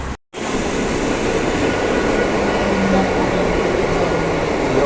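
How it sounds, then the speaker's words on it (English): Train interior ride sound on an off-peak, lightly crowded commuter train: steady loud rumble and rolling wheel noise with faint rail clatter, continuous after a brief cut at the start. "This is a not so crowded train, by the way."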